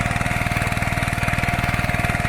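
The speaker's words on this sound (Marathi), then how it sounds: "मी दाखवतो इकडे ट्रॅक्टर कसं नांगरणी करता" A large tractor engine thuds in a fast, even rhythm while ploughing a flat field, loud and close, running without pause throughout.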